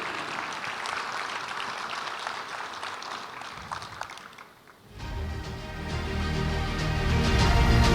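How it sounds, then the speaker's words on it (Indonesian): Audience applause at the opening ceremony of the BNI Investor Daily Summit 2024 in Indonesia, a steady broad clapping that dips briefly, then swells back under a loud low tonal swell, likely music or a sound-system rumble. "Sekali lagi kita berikan tepuk tangan yang meriah."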